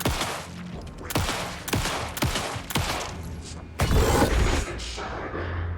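Repeated gunshots fired in the horror video game Alan Wake 2, five or six loud sharp blasts at roughly half-second to one-second intervals, ending in a heavier burst with rumbling tail.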